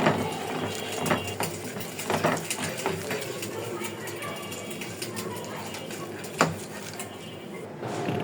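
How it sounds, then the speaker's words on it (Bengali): Bharta paste is ground by hand on a grinding stone, giving rhythmic scraping and knocking strokes with irregular clacks, some louder hits and a brief sharp knock, repeated close by. "এখন আমি এটা দিয়ে আস্তে আস্তে সবগুলোকে হচ্ছে বেটে নিব এবং এখন বাটনা দিয়ে ভর্তাটা আমি ফার্স্ট টাইম করছি"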